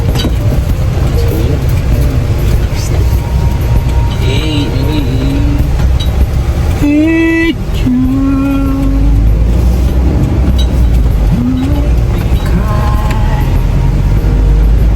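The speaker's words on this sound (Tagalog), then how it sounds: "ang dami sasakyan" Busy town-center traffic in Daet with many vehicles passing, a loud continuous rumble of engines and road noise, with a couple of horn-like tones rising over the steady wash.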